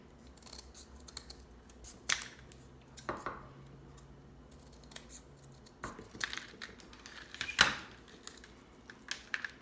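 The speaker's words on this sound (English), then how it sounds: "Now I like to cut these other ones just a little bit skinnier for the other part of our design." Scissors snip paper roll strips for a snowflake ornament, giving a few scattered, quiet cuts and rustles with short pauses between them, close by, with no voice.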